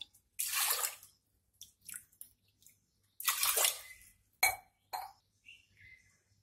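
Water is poured in short splashy bursts into a pressure cooker holding toor dal, several separate pours with clinks and drips between, close and fairly quiet.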